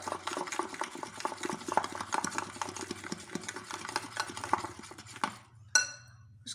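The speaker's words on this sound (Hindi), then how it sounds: "उसके बाद साथ साथ चीज़ों को मिक्स करते जाइएगा" Naan khatai biscuit ingredients are mixed in a bowl with a rapid, rhythmic scraping and tapping over a low steady hum, stopping abruptly near the end, followed by a sharp clink and a short ring.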